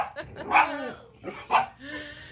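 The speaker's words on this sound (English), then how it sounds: "I'm sitting in a room full of barking dogs" Dogs barking indoors in a room full of dogs, several sharp barks in two bursts with whimpering yelps between, close and fairly loud.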